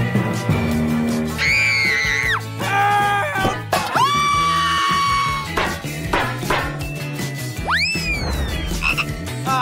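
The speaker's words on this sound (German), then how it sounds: "Das heißt also, dass ich einen echten Frosch unterm Deckel habe?" Loud frog croaks ring out up close: a series of rising, squeaky, wailing calls separated by short pauses, all without any talk.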